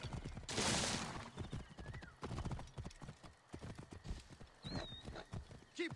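A racing horse gallops in Assassin's Creed Origins, its hooves hammering out a quick, steady clip-clop with a loud neigh early on, alongside faint chirps and other game sounds.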